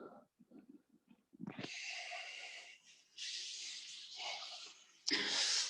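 Loud, hissing ujjayi-style breaths during an Ashtanga yoga class at The Loft, Stroud Brewery: a few soft low puffs, then long sustained airy exhalations in three drawn-out waves, close to the microphone.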